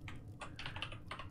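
Quick bursts of keystrokes on a computer keyboard, close and fairly quiet, a few clustered clicks with short pauses between them and no speech.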